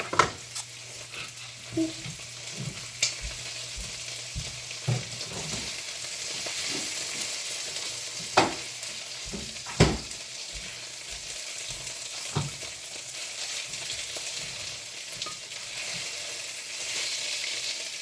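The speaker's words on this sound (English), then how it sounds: "Mix what in? The bacon? Yeah, go ahead and mix it." Bacon sizzles in a pan on a home kitchen stove while a utensil stirs it, a steady frying hiss broken by repeated scraping clacks against the pan, with no talking.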